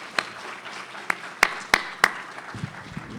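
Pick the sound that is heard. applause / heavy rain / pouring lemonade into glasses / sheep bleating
applause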